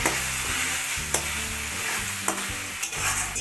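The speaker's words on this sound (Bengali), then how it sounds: "ধনের গুঁড়ো জিরের গুঁড়ো দিয়ে এবার সমস্ত মশলা একসাথে আমি ভালো করে এখনই কষিয়ে নেব" Coriander and cumin powder with other spices being stirred and sautéed in a pan, a steady close sizzle with a few sharp spoon scrapes and taps, and no talking.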